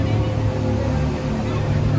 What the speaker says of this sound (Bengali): বোটটা বাউন্স করছে, সবাই ভয় পাচ্ছে